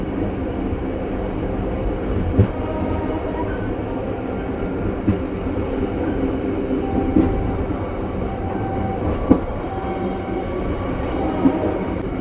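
A shunting locomotive rumbles steadily nearby with a constant low roar, occasional clunks and faint tonal squeals as it rolls past.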